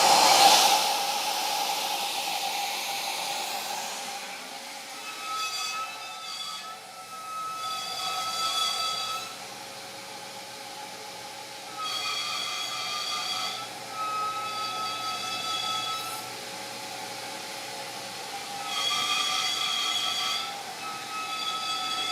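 A BenchPilot CNC router cutting drawer box parts in a workshop, its spindle whining at a high steady pitch while the cutting noise swells and eases in several passes, with quieter gaps between.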